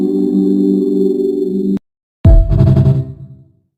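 A spacey synth tone built from a fork striking a plate, pitched down two octaves and drenched in reverb, sustains steadily for almost two seconds, stops, then returns as a louder, brighter struck note that decays in a long reverberant tail.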